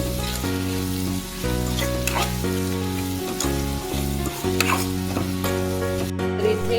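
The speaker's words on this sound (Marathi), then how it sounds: "हे टाकते आला लसूण मिरची आणि कोथिंबीर पेस्ट ती सुद्धा आपण यात परतून घ्यायचे" Garlic, green chili and coriander paste sautéing with spices in hot oil gives a steady, close sizzle with occasional stirring, set over continuous background music.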